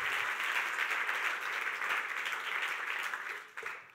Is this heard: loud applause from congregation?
yes